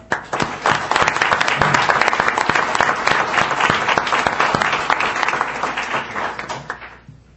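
A sustained round of dense clapping from attendees at a school district board meeting, continuous and fairly loud before fading out at the end.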